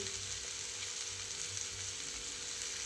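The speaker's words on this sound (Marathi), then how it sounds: "हिरवी मिरची टाकून आता परत परतायला लागली भेंडी" Okra stir-frying with green chillies in a pan gives off a steady, close, crackling sizzle with no voices.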